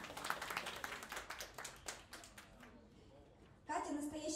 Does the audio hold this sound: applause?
yes